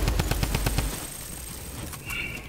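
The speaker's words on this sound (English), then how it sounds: "Oh no, they're shooting at you." Rapid bursts of gunfire in a video game, a quick run of sharp shots in the first second followed by quieter game ambience and a brief high tone near the end.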